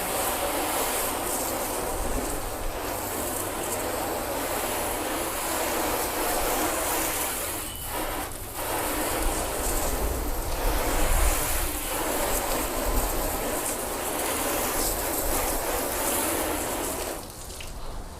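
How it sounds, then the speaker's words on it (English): Hose water rinses a car before a hand wash with a mitt, a steady close hiss of spray hitting the bodywork that runs unbroken throughout with small shifts in intensity. "we'll just give it a quick rinse off before we work in with our wash mitt"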